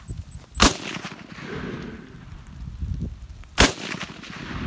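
Two sharp, loud gunshots from a Draco pistol fired outdoors at a log, roughly three seconds apart, over low rumbling background noise.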